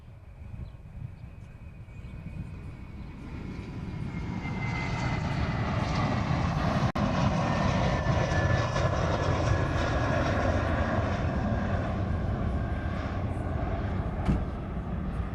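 A large heavy airliner landing on runway 8 right at Honolulu airport, its jet roar building steadily and holding loud and continuous with sweeping engine tones, heard from a distance outdoors.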